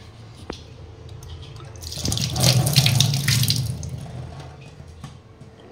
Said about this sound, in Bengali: লঙ্কা আমার ধোয়াই থাকে, তবুও ধুয়ে দিই একবার